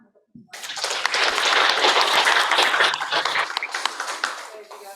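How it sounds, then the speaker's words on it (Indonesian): An audience at a public dialogue forum for Indonesian human rights commission candidates breaks into applause after a brief quiet moment, swelling into a loud, dense and steady round of clapping that gradually thins toward the end. "saya mohon tepuk tangan untuk semua."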